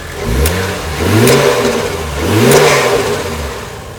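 A car engine idles with a steady rumble, then is revved three times in quick swells, each rising and dropping back, loud and close.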